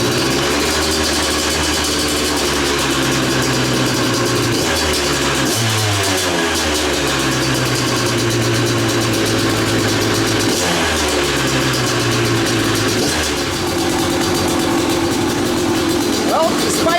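A KTM two-stroke dirt bike engine running after carburetor cleaning, a loud continuous close drone with several blips of revving and pitch changes, and a voice talking over it.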